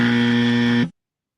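A quiz buzzer gives one loud, steady electronic tone that cuts off abruptly after almost a second, followed by silence.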